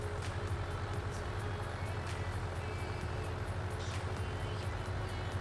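A tractor driving in Farming Simulator 19 on a long route toward clifftops: its engine gives a constant low, throbbing drone at a steady loud level, with faint higher rattles over it.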